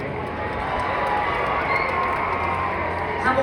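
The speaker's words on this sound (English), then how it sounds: "Let me hear you scream, under 20?" A packed rodeo crowd of children screaming and cheering at the Calgary Stampede, a dense, loud, sustained roar filling the arena with no clear breaks.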